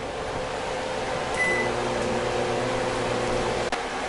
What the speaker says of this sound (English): put it in your microwave.